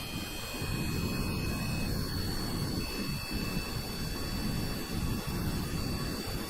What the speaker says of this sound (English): Despite being powered by 4 jet engines, it requires the full length of the runway to get airborne.